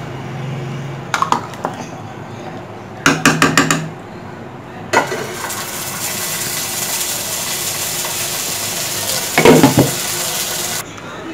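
Hot chilli oil is poured over beef trotters, setting off a loud close sizzle that follows bursts of metallic clatter and spoon taps on the pot, with no talking.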